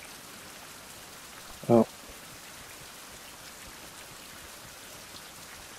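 Rain in a survival video game hisses steadily and softly all the way through, with a brief spoken exclamation over it.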